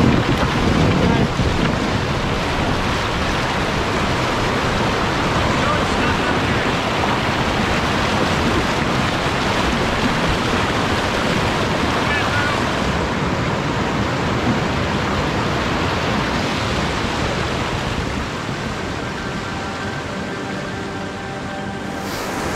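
River rapids rush past a canoe in the Laurentian Mountains, a steady loud roar of churning water mixed with wind buffeting the microphone, continuous for the whole stretch.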